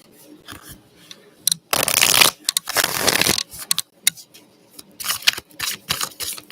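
A deck of angel cards is handled and shuffled close up, with two long riffling bursts followed by shorter flicks, taps and rustles as the loose cards are gathered and straightened.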